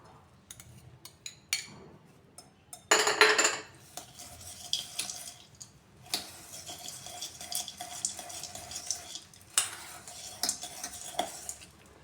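Sprout salad being stirred and mixed in a bowl, with a string of small clinks and scrapes of a utensil against the dish, a louder burst partway through, close and fairly quiet with no talking.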